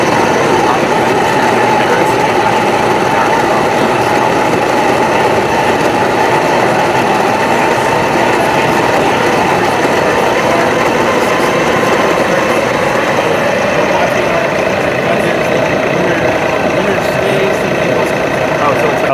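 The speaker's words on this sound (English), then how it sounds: "if we want to grind some coffee" A Breville coffee grinder with a single-dose hopper grinds coffee beans in a loud, continuous, close-up whirring roar with a slowly shifting pitch that lasts the whole time.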